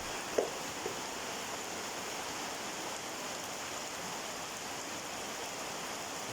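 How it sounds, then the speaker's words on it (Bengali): Quiet rain falling steadily, an even soft wash of drops that barely changes, with one small tap near the start and no voices. "আজ সকাল থেকেই নীরবে বৃষ্টি হচ্ছে"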